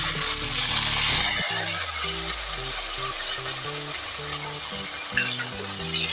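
Tomatoes fry in a hot pan of oil and spices for chana pulao, giving a steady close sizzle with stirring scrapes and a short clink partway through.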